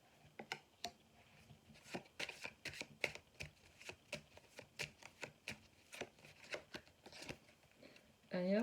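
Tarot cards shuffled close up in a steady run of soft, evenly spaced flicks and taps, with a brief louder rustle at the end.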